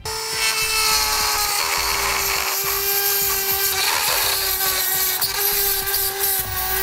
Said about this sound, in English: Just use a rotary tool to enlarge it slightly.